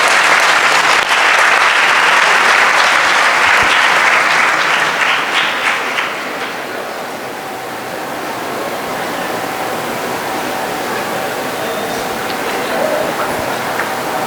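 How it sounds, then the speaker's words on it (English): A large crowd applauds steadily at a wellness festival talk, loud and dense clapping for several seconds before it thins and tapers off into a softer patter. "can I request you all a warm applause of clappings"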